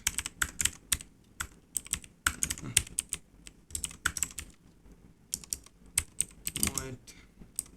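Rapid, uneven keystrokes clatter on a computer keyboard while code is typed, arriving in close bursts with short pauses and no voice on top.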